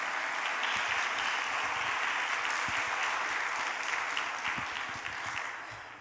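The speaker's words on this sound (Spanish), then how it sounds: "démosle un aplauso, a Jesucristo, al que tiene la espada de dos filos." Church congregation applauding during a service, dense sustained clapping that fills the space evenly and fades slightly toward the end.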